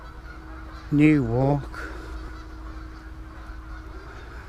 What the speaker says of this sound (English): I'm told they're Canadian geese